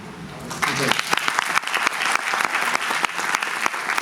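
Audience applause starts after a moment and builds into steady, lively clapping from a room full of people, fairly close and filling the rest of the clip.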